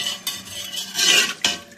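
Mutton and beetroot being stirred in a pot, with a few sharp clinks and scrapes of a utensil against the metal and a brief rustling swirl in between, close and fairly loud, no speech.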